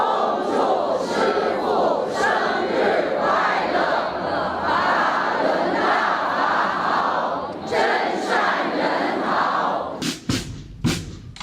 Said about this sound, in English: That was quite a crowd,